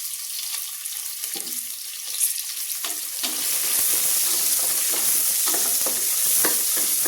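Two medium onions sautéing with green chillies in a pan for biryani give a steady, close frying sizzle, broken by scrapes and clicks of stirring that grow busier halfway through.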